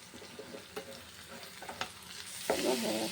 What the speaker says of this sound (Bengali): পেঁয়াজটা পুরো ভাজা ভাজা হয়ে গেছে।